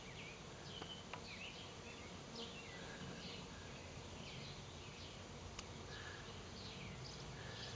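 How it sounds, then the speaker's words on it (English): A steady, low hum of many buzzing light yellow Italian honey bees during the hiving of a swarm, faint and continuous, with occasional high chirps of birds scattered in the background. "this is quite a light yellow Italian strain of bees"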